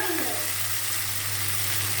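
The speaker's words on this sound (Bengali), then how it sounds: "ডাটা আর আলুটা একটু ভেজে নিচ্ছি" Vegetable stems and potatoes fry in a pan with a steady, close sizzle and a low hum underneath, continuous throughout.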